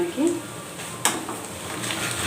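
Prawns frying with masala in a pan for curry, a steady close sizzle with a single sharp utensil clack partway through.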